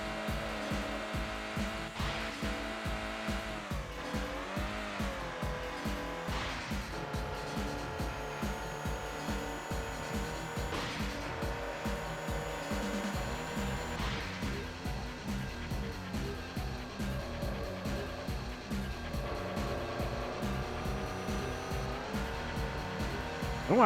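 A car drifts in the video game Road Rage 3, its engine droning in rising and falling revs while tires squeal through long slides, with a repeating pulsing engine texture throughout.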